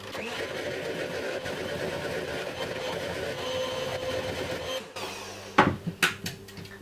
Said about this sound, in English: I have an electric whisk. Just whisk them up nice so they're nice and fluffy.